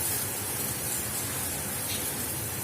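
Steady rain falls in a dark outdoor cooking spot, a continuous broadband hiss with no breaks, moderately quiet and without voices.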